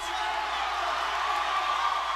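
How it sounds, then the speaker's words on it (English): A boxing arena crowd cheering in a frenzy, a steady wash of roaring voices and whoops sustained throughout, loud and dense. "And the crowd is in a frenzy"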